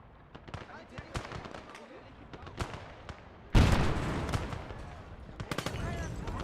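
Artillery and gunfire in a WW2 real-time strategy game: scattered sharp blasts through the first half, then a loud heavy barrage from about the midpoint, with a voice speaking in the game over the firing.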